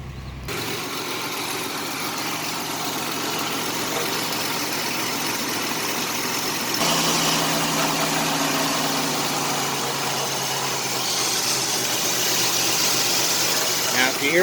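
The engine of a 1987 Chevrolet Celebrity Eurosport, running again after sitting for seven years, idles steadily close by with a shift to a fuller tone midway, while someone talks over it.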